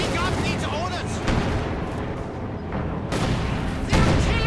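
Heavy mortar rounds and other battle fire in Company of Heroes 2: repeated booms and blasts in a dense, noisy barrage, with a commentator's voice likely mixed underneath.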